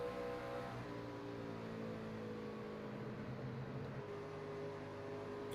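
A race truck engine at a truck series season finale drones steadily at low, even revs while easing off the throttle to save fuel, the note held smooth and unstrained like a vehicle coasting on light throttle.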